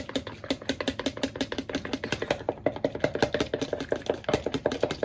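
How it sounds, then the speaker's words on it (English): A fork or whisk beats salad dressing seasoned with salt and pepper in a bowl, giving rapid, even clicking strokes close by with no talk. "And give it a good old mix up."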